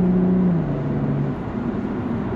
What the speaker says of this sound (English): And hear that exhaust note.